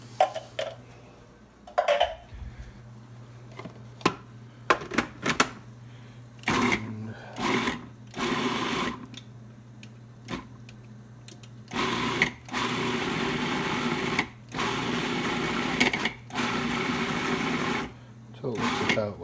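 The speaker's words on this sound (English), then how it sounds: "I always do it in the Cuisinart" Cuisinart food processor mashing two cans of kidney beans in short whirring bursts, some brief, some several seconds long and fairly loud, with a person talking between pulses.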